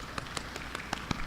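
An audience at a career awards summit pats and claps hands to imitate rain, giving quick scattered taps in a fairly regular patter over a steady background hiss.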